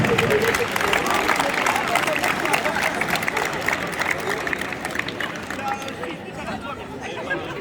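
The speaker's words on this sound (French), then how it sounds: "on applaudit quand même" Applause from the audience at the French-language Scrabble world championships during the presentation of national teams, a dense, sustained clatter of clapping mixed with crowd murmur that eases off gradually toward the end.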